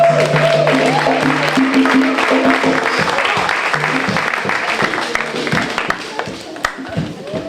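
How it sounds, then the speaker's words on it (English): An audience at a Kwanzaa celebration in East Palo Alto gives loud, sustained applause to welcome the evening's MC. Early on, a tonal background sound runs under the clapping, which gradually tapers off. "Please a round of applause for Miss Deidre White."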